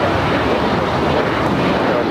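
A United Airlines Boeing 737-800 takes off from LAX bound for SFO, its jet engines producing a loud, steady, close roar that fills the whole moment without letup.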